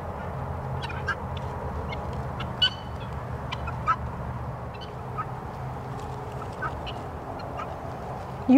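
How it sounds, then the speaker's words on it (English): Farm ducks quack repeatedly in scattered, uneven calls over a steady low background rumble. The quacks are moderately close and vary in loudness, with no speech. "You birds are so silly."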